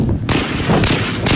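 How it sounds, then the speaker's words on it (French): Dense burst of gunfire and blasts from automatic weapons during an attack by the Malian army's opponents, loud, rough and continuous with no clear pauses. "des explosions kamikazes suivies de rafales d'armes automatiques"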